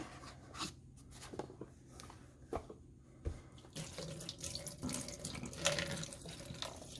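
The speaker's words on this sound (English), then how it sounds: "We're going to dump that water out." Water from a clothes steamer being descaled with vinegar splashes and pours into a sink, quiet at first with a few drips and clunks, then a steady louder gush in the second half.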